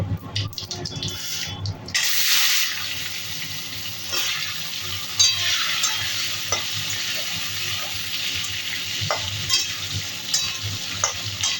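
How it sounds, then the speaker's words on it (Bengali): Diced potatoes frying with spices in a hot pan, a loud steady sizzle that flares as they go in, with stirring scrapes and spatula knocks throughout and no talking. "ফোড়নটা ভাজা ভাজা হয়ে গেলে এবার ডুমো করে কেটে রাখা আলু দেব।"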